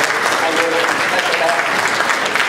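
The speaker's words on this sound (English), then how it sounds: "Give her a big round of applause" Steady, dense applause from an audience at a symphony orchestra concert, sustained and fairly loud throughout with no pauses.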